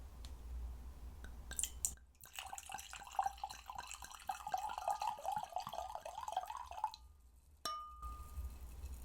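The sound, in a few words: pouring wine into a second glass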